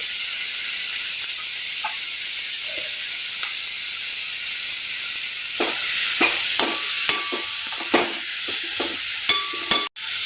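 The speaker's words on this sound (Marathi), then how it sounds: "त्यानंतर त्यामध्ये आपण हे जे कट केलेले शिमला मिरचीचे तुकडे ते टाकून घ्यायचे" Chopped capsicum pieces hiss into a hot pan, followed by a steady sizzle and a series of sharp scraping clicks from stirring, the clicks growing busier toward the end; no talk.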